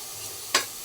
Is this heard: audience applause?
no